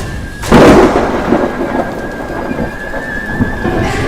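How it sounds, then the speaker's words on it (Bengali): A loud thunderclap rumbles over steady, heavy rain falling on a river with a strong current, the rain pouring throughout. "এই দুর্যোগের সময় এত বৃষ্টিতে ও নদীর প্রচন্ড জলের স্রোতের মধ্যে"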